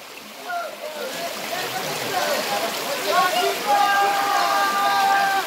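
Water sloshes and splashes as a person is quickly plunged under during an immersion, with water poured over them; the splashing is steady and close, mixed with voices talking and calling out throughout.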